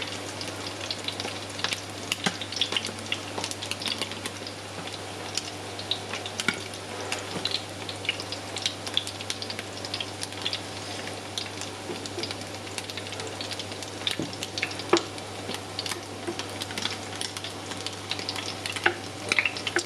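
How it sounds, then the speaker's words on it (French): Seitan fries in hot oil with a steady, dense sizzle and crackle that runs unbroken throughout, fairly close and alone, with a faint low hum beneath and scattered small pops. "C'est important de zoomer sur votre nourriture. Ça, comme ça, on la voit bien frire en direct."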